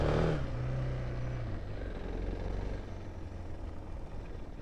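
A Suzuki DR650 motorcycle engine rumbles low and steady at moderate distance, a brief rising rev at the start settling into an even running drone.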